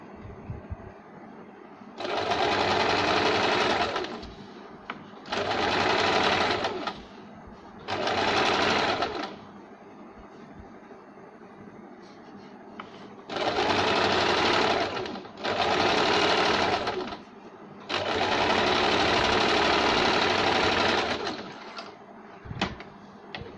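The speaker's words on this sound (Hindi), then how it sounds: "जहाँ से सिलाई लगे वहाँ पे एक सिलाई देंगे" A sewing machine runs in six loud, close bursts while stitching a double-shade saree blouse with lining. The bursts are roughly two to four seconds long, and quiet gaps separate them.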